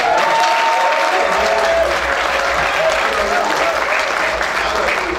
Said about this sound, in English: can we give a hand clap?